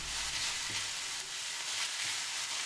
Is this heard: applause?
no